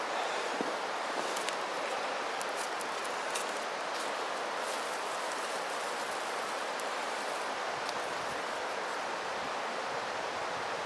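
Steady breeze rushes across the microphone outdoors while a fire is being started from natural tinder with a ferro rod, a constant broadband roar with faint crackles and no talk.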